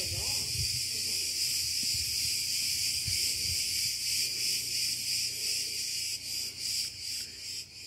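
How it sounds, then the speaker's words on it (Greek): Cicadas buzz in a dense, steady high-pitched drone on the Greek island of Kasos, near a stone-built village church, with a low faint murmur beneath and the chorus pulsing slightly toward the end. "Τα τζιτζίκια δίνουν και παίρνουν."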